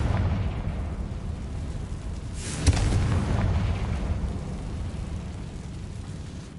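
A Confringo blasting spell explodes in Hogwarts Legacy, a deep rumbling boom with a sharp burst near the middle and long noisy roar around it.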